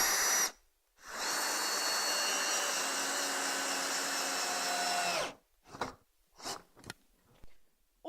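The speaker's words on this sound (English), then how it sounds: "take the wooden screws and pop those into the 4 pilot holes that we've drilled around the edge of our frame" A power drill drives wooden screws into pre-drilled pilot holes around the edge of a wooden frame, one long steady whirring run followed by several short bursts of the motor, close and loud.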